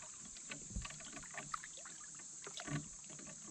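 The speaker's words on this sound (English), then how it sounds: "I'm drifting up in this bank, so I'm going to have to start rowing us out of here" Oars row a small boat through a quiet backwater cove, with faint scattered splashes and dips in the water, soft and fairly close, against a steady background hiss.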